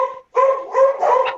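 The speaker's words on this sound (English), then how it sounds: "Somebody has a very happy dog." A dog barks in a few quick, excited yips and woofs that break into a remote zoning board meeting, loud and close over an open microphone, with no talk beneath it.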